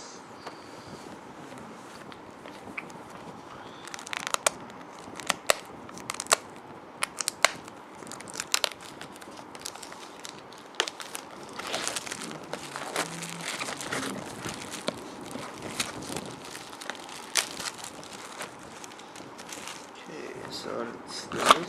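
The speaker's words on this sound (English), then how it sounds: "let's open the box" Sealed booster box for a card game being opened, with crinkling plastic wrap, tearing and scattered sharp crackles over a quiet background, fairly close.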